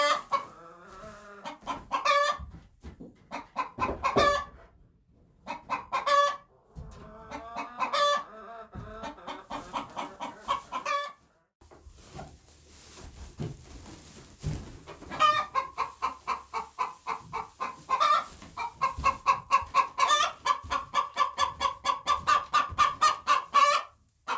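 Several chickens cluck and chatter in repeated bursts, with a rooster-like call rising among them, close by and fairly loud, with brief pauses between flurries.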